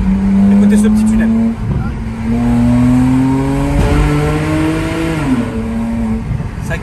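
A car engine roars loud and close through a small tunnel, its pitch climbing steadily under acceleration and dipping briefly before rising again.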